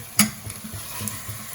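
Tomato frying with mint and coriander for a Naidu-style mutton curry sizzles steadily in a pan, with a sharp scrape of a spoon stirring at the start and softer stirring knocks after, close and without talking.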